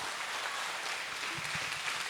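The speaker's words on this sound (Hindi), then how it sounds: "तो एक बार जोर से तालियां भाई साहब के लिए" Audience clapping at a cultural program in a hall, a steady wash of applause at moderate distance throughout, with no talk over it.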